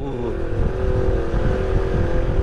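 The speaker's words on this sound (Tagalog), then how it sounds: "Ang lakas ng kanyang makina." A nearby motorcycle engine roars in a loud, steady drone, revving continuously throughout on a ride toward a mountain rider's haven in Tanay, Rizal.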